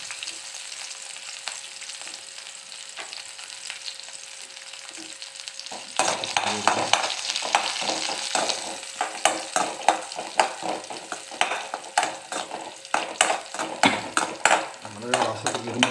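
Chili and garlic hit a hot pan in a home kitchen. Quiet hiss gives way to loud crackling sizzle, with repeated scraping stirs and utensil clinks near the mic.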